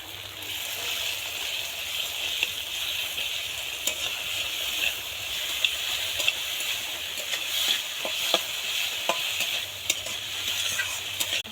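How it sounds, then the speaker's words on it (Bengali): Ginger-garlic paste sizzling in a hot pan, a continuous close fry with frequent stirring and light utensil clicks, no talking. "আদা রসুনের পেস্ট দিয়ে দেব।"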